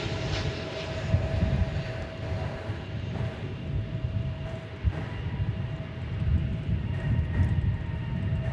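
A jet airliner at Dallas/Fort Worth International Airport spools up for takeoff as a steady, loud broadband roar with a faint whine, mixed with rumbling that carries throughout without letting up.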